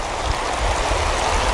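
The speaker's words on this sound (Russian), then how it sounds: "Но видите, она такая горная и почему-то грязная река." The muddy mountain river Khadyzhka rushes steadily near houses, a constant close broadband flow without breaks or talk.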